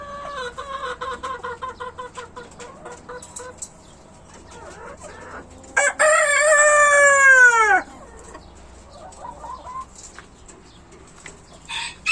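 Hens cluck in the background, then a rooster crows once loudly and close for about two seconds before the clucking resumes.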